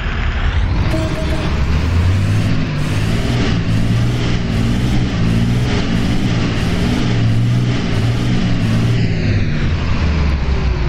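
A Mascarello GranVia 2011 bus on a VW 17230 chassis idles loudly in OMSI 2, its diesel engine droning steadily and close while the air tank fills, with faint rhythmic pulses over the constant rumble.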